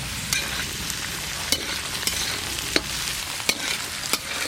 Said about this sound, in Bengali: আলু আর বেগুন খুব ভালো করে একসঙ্গে ভাজা ভাজা করে নিয়েছি।